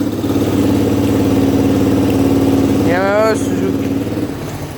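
A Yamaha or Suzuki three-wheeler with its engine mounted at the rear runs at a steady, loud idle, its low throbbing hum continuous throughout, with a brief voice-like chirp partway through.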